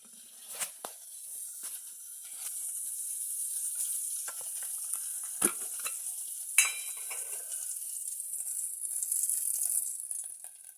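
Oil heats in a pan on a gas stove, giving a faint, steady hiss with a few scattered soft crackles and clicks, no talking.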